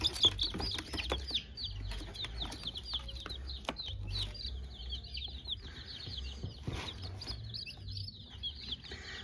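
Chicks peep continuously in a high, busy chatter, close by, with faint shuffling and low rumbles underneath.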